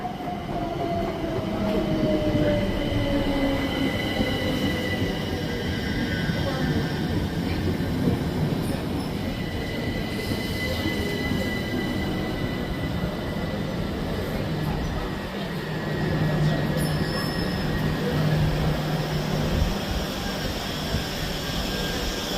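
Steady rumble and rattle of a busy moving train heard from inside after leaving Westcliff, with faint wheel squeals and clatter throughout.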